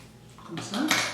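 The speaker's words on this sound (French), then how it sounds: "Et je vais couper l'excédent" Scissors snip the excess from a wig closure, two short metallic cuts in quick succession, close and fairly clear.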